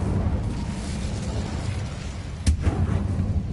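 The Incendio fire spell is cast in Hogwarts Legacy. A short fiery burst flares up sharply over a steady low rumble and then fades, with no voices.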